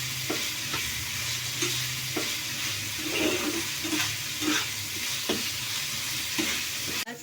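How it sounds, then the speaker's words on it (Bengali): Potatoes sautéed and stirred in a pan for a Bengali dhokar rezala, with regular scraping strokes of a spatula over a steady frying sizzle, close and moderately loud, no voices. "আর একটু কষিয়ে নেব আলু দিয়ে"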